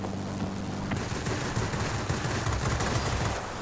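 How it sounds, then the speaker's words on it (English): A Fw 190 A-1 fighter in World of Warplanes fires a rapid, continuous burst of rockets or guns, loud dense rattling starting after a moment and running steadily to the end, no voices. "Firing your rockets, okay."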